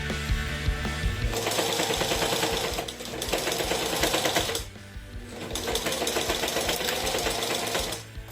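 Sewing machine stitching slippery X-Pack fabric: close, loud rapid mechanical chatter in two long runs separated by brief pauses, with a steady motor hum underneath and no talking.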